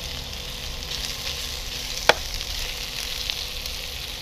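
Crispy pork stir-fried in a very hot wok, a steady close sizzle and frying hiss running throughout, with one sharp clank or scrape of the spatula against the pan midway and a fainter tap later.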